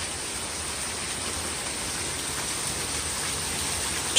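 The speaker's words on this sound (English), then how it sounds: "It's raining! All of a sudden it just changes just like that." Rain falls during a thunderstorm as a dense, even, hissing wash that stays constant and fairly loud throughout, with no speech or thunder standing out.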